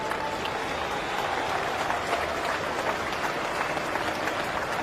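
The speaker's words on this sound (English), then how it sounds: "Terrific reaction from the crowd and from Root." A cricket crowd applauds steadily at a match, a broad even roar of distant clapping that holds at a constant level throughout.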